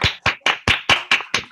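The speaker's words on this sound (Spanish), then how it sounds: "un aplauso para Salvador" Seven slow, evenly spaced claps from a single close pair of hands for a speaker at the end of an online talk, each sharp and separated by clean silence.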